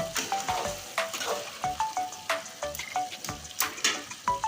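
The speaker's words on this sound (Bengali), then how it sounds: "দেখুন চিকেনটা অনেকটাই আমি কষিয়ে নিয়েছি আর চিকেন থেকে একদম তেল ছেড়ে গিয়েছে" Chicken sautés in oil in a pan for a potato chicken curry, with a close sizzle. Rhythmic scraping and clanking strokes of a spatula or spoon sound through it, repeating about twice a second.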